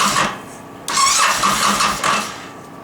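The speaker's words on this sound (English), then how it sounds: "I'm going to crank it over just to spread that fogging oil around a little bit." A motorcycle engine cranks over with the plug wires off so it cannot start, the starter whirring in two loud bursts separated by short pauses, close and without speech.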